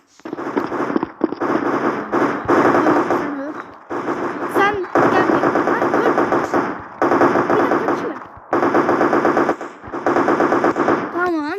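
Loud, continuous automatic gunfire from the video game Special Forces Group 2, sustained bursts with brief gaps between them and excited talk underneath.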